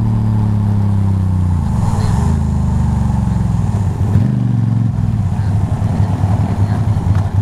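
Motorbikes cruise along a rainy coastal road on an island, their engines droning steadily and loud up close with shifting pitch, wind rushing over them throughout.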